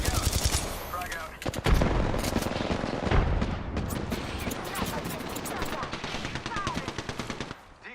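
Rapid machine-gun fire and gunshots in a shooter video game, loud and continuous with dense rattling bursts and booms, while voices talk over the action.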